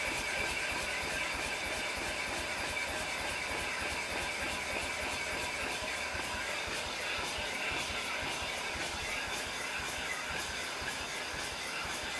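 A honing machine runs steadily while its stone head strokes up and down inside an engine cylinder bore on a BMW E28 M535i block, giving a continuous dense hiss and whir, close and even throughout.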